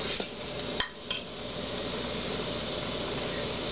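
Lit WhisperLite liquid-fuel backpacking stove burning with a steady, close, broadband roaring hiss, opened by a few quick metallic clinks.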